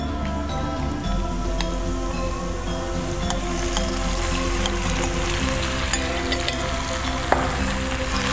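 Beef fries and gets stirred in a pan for a black pepper beef dish, giving a steady, dense sizzle with occasional spoon scrapes and pops throughout, no voices.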